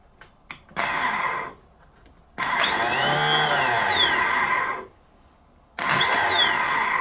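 A new replacement starter cranks a Honda Foreman S ATV engine in bursts: a couple of short clicks, then several seconds of loud whirring with a rising and falling whine, a pause, and another burst starting up, close by.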